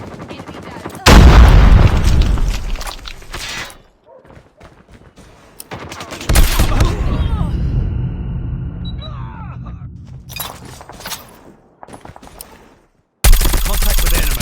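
Gunfire from the mythic Grau rifle in Call of Duty free-for-all and hardpoint matches: loud, punchy bursts of rapid automatic fire separated by brief pauses and quieter game sounds, with in-game voice callouts heard between shots.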